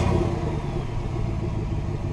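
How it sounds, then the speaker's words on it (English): 2025 Chevy Silverado pickup truck engine running steadily just after a cold start, a dense continuous rumble recorded close to the exhaust with no talk. "And since we're here, we're gonna do a quick little cold start."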